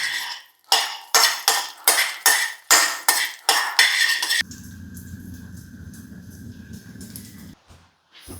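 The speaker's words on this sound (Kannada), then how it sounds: "ದ್ರಾಕ್ಷಿ ಗೋಡಂಬಿ ಸೊ ಲೈಟಾಗಿ ಫ್ರೈ ಮಾಡಿ" Raisins and cashews are fried lightly in ghee in a pan for a tricolour dessert, first with a rapid series of sharp utensil scrapes and clinks, then a soft, steady sizzle.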